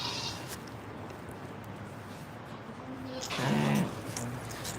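Sheep on a farm bleating once briefly near the end, over steady outdoor background noise.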